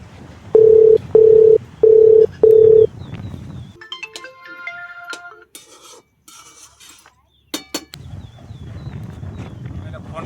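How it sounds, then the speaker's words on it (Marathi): A phone call is dialed: four evenly spaced ringback-style tones, then electronic beeps and tone patterns, with a soft room background before and after. "फोन तरी करून बघतो तिला."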